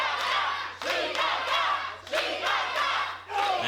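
A wrestling crowd at an FMLutte intergender match roars and chants in rising waves of cheering for wrestler Shikaka, loud and sustained with rhythmic surges and no commentary over it.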